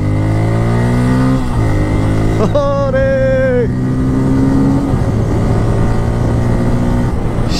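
A Bajaj Pulsar N250 motorcycle is ridden along a road, its engine loud and close with rising revs, a couple of gear changes and a short higher whine in the middle.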